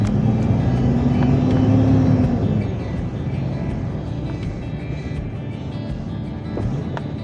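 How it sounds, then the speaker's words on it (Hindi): A truck hauling a trailer rolls forward, its diesel engine a steady low rumble that eases slightly in loudness partway through, with no talking. "अभी मैं गाड़ी थोड़ी आगे लेकर जाता हूँ, फिर मैं इसको रिवर्स करूँगा"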